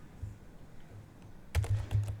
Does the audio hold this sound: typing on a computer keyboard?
yes